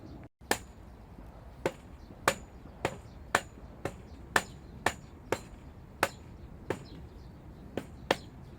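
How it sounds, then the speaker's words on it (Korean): A hammer-like tool knocks on the steel pipe joints of a plastic-covered greenhouse frame, landing about a dozen sharp, ringing taps at an uneven, unhurried pace against quiet outdoor background. "그래서 뭐제 나름대로 그냥 망치 비슷하게 사용하는 것인데 사용 방법을 여러분들께 잠시 보여드리겠습니다"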